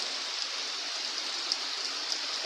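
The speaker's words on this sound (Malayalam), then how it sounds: "നമ്മുടെ കണ്ണൂരിൽ ഭയങ്കര മഴയാണ്." Steady, dense rainfall hissing without pause, an even wash of sound with occasional slightly louder droplet spatters.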